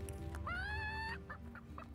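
A chicken gives a single drawn-out cluck in the game Divinity Original Sin, close and clear over a low steady background hum.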